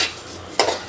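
Coriander seeds roast in hot oil in a wok, a metal spoon scraping and clinking against the pan in a couple of quick close stirs over a faint background hiss.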